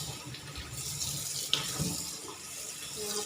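Tilapia being washed clean under a running tap before grilling, a steady soft splash of water into a sink with faint handling noises and no talk.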